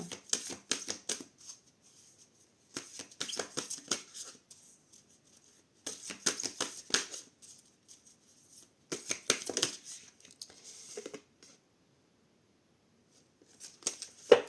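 Oracle cards being shuffled and drawn from the deck, heard as repeated bursts of crisp riffling and flicking, roughly every three seconds with short quiet gaps between, close and fairly soft.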